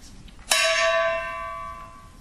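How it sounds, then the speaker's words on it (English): A Peking opera brass mongong gong is struck once, giving a bright metallic clang with a sustained shimmering ring that slowly fades, close and alone in a quiet room. "This is the mongong, Peking brass mongong."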